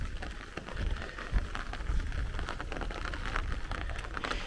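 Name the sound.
heavy rain downpour during thunderstorm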